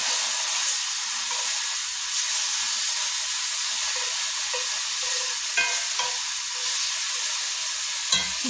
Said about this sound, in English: Let that butter melt